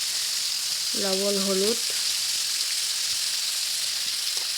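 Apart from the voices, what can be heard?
meat frying with fried onions in a pan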